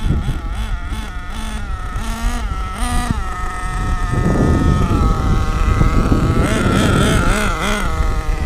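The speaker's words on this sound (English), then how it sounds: "This engine is running too much rich, that means too much fuel is consuming." An HPI Savage X 4.6 nitro RC truck engine runs on its first tank while tuned too rich, buzzing loudly and close with wavering pitch, revving up and down in bursts as it idles and throttles.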